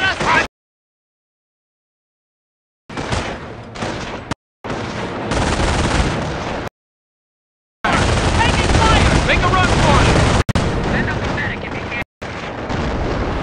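Loud, heavy battlefield gunfire and explosions in Company of Heroes during an airborne drop, coming in long bursts broken by abrupt silences, with shouted voices mixed in.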